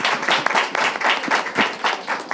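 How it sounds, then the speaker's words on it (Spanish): Applause from an audience at a Morena women's forum and closing event, steady dense clapping throughout, fairly loud and close, with no speech over it. "Un aplauso, por favor"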